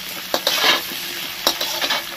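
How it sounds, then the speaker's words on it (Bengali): Potatoes and pointed gourd fry in a wok, a steady close sizzle broken by a few sharp stirring scrapes near the start and again toward the end, with no voices. "এদিকে তো আলু পটল ভাজা হচ্ছে"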